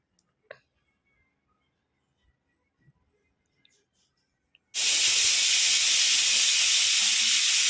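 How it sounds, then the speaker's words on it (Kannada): A pressure cooker, used for cooking sago greens in a milk-based sambar, sits nearly silent with a few faint clicks before its whistle suddenly releases a loud, continuous hiss of escaping steam that holds steady until the end. "ಈಗ ಅದು ವಿಷಲ್ ಬಂದಿದೆ"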